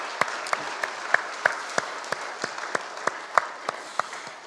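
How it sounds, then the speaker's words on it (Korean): Church congregation applauding during an Easter Sunday worship service: scattered, uneven hand claps ring out over a soft roomy wash, moderately loud and without voices. "우리 영광의 부활을 하신 우리 주님께 박수로 영광 돌리겠습니다"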